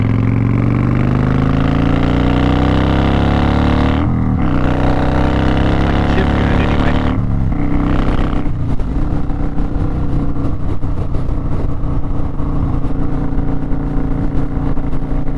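A Kawasaki Vulcan Classic 900 V-twin motorcycle engine rumbles loudly at close range, revving up and dropping off twice before settling into a steady, throbbing idle.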